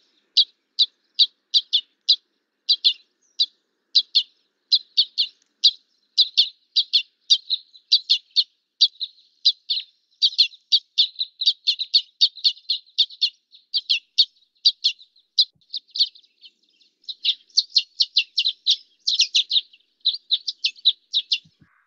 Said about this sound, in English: Red Crossbill in particular gives this very distinctive chitto call